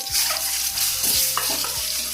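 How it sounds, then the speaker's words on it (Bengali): Steady hiss of eggs frying in oil in a pan, with a few soft scraping and stirring knocks mixed in. "ডিমগুলো একটু ভেজে নেবো"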